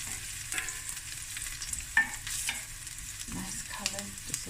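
Onion sautés in a pan with a soft, steady sizzle and the scrape of stirring, quiet and close, with no talk over it.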